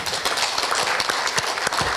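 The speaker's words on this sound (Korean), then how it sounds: "큰 박수로 환영해 주시기 바랍니다" An audience at a Seoul Campus Town plan announcement and cooperation agreement event at Korea University gives welcoming applause, a dense, steady burst of many hands clapping throughout two seconds.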